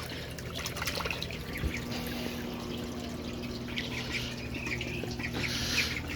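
Cayuga ducks squawk faintly out on water, giving scattered raspy calls over a soft background of trickling and splashing, all fairly quiet and distant.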